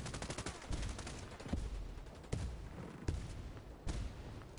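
Rapid, loud gunfire rattles through a Ghost Recon Breakpoint firefight, with repeated automatic bursts and sharper single cracks spaced about every second, and no voices on top.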